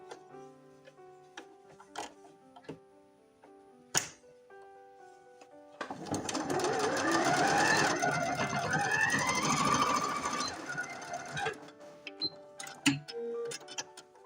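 A sewing machine stitches the back of the head on a fabric Easter lamb, a steady mechanical whir lasting several seconds between quiet clicks and handling noises.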